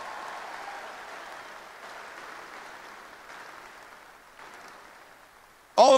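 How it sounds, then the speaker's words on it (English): A crowd at an Indiana basketball senior event applauds the senior band members, a steady wash of clapping at moderate distance that slowly fades, with a sudden louder burst of sound at the very end. "How about all our senior band members? Let's hear it for them."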